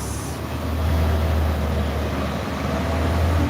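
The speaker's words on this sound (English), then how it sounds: "And there's another bus." Another bus passes along a Hollywood street, its deep low engine drone swelling in and holding strong, loud and near, with continuous traffic hiss around it and no talking.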